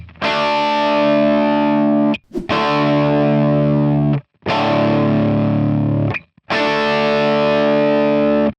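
Four sustained inverted power chords on a distorted electric guitar, each with the lower note shifted down for a dense, grungy texture, ring out loud for about two seconds apiece with short gaps between them.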